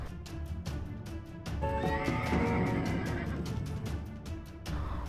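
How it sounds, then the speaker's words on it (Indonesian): A horse neighs loudly in a forest, a long whinny rising over steady background ambience and a few hoof clops, with the call dominating the middle of the passage before fading. "suara ringkikan kuda menghentikan langkah mereka"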